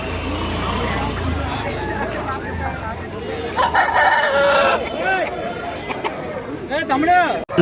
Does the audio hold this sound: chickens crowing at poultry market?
yes